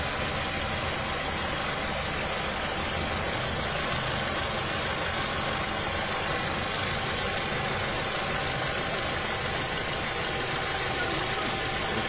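A car engine running on HHO hydrogen gas from water electrolysis, idling with a steady, continuous mid-pitched hum throughout, no talk.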